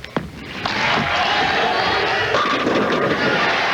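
A crowd at a professional bowling tournament erupts into loud, sustained cheering and applause that swells after a sharp opening crack and stays steady and dense throughout.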